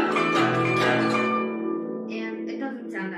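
Guzheng notes played off the proper plucking spot give a bright, buzzy, harmonic-rich tone that rings and fades, followed by a few lighter plucked notes.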